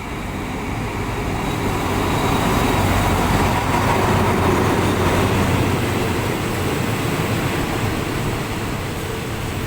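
A train hauled by Alstom locomotive number 4415 at Ratchaburi station, a loud continuous rumble and rolling clatter of wheels on rails that swells and holds steady, with no talk.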